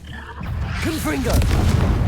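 A Confringo fire spell blasts off in Hogwarts Legacy, a dense booming burst with rumbling low end over busy game noise, with a voice talking over it.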